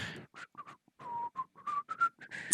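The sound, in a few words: voice imitating a bartender whistling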